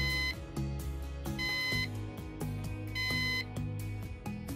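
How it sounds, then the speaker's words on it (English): A Synology NAS gives short electronic beeps as its reset button is held, three brief tones spaced over a few seconds, heard close up amid faint clicks and handling noise, with no talking. "Press and hold the reset button for 4 seconds until you hear a beep."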